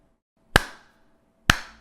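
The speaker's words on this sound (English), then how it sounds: "I'm gonna clap" Two single sharp hand claps picked up by a streaming microphone, each a loud close crack with a short ringing decay, spaced about a second apart in a quiet room.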